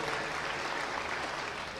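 Audience applauding at a Hindi comic poetry recital, a dense, steady patter of many hands clapping together at an even level for the whole stretch.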